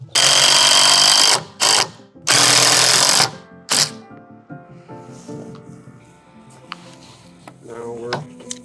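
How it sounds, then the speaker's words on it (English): Power drill whirring in two loud bursts while roof valley rafters are installed on a cabin build, followed by quieter clatter and faint talk. "And the drill."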